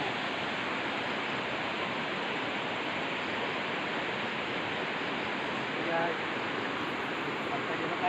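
Steady broadband rush of water flowing in a river, a dense continuous wash with no breaks, heard up close on the Selabung river at Muaradua, South OKU, with a brief louder splash near the end.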